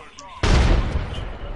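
A frag grenade blows up in Apex Legends, one sudden loud boom that cuts in sharply and rolls off into a rumbling decay over the following second.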